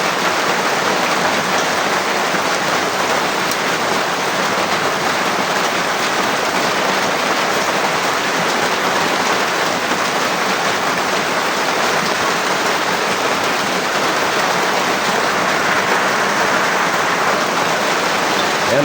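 Heavy rain pouring down on a farm, a dense, steady roar of drops that holds unbroken and loud throughout with no talking.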